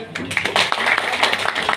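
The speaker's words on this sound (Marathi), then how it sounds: "माझी ग्रेट अपलाईन त्यांच्यासाठी एकदा टाळ्या होऊ द्या" An audience claps together in a hall, a brisk, dense patter of hands that carries on steadily and fairly loud at close range.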